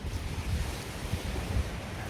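Steady sea breeze buffets the microphone at the coast during the Northwest 200 motorbike races, a continuous low rumble of wind with surf-like wash and no voices.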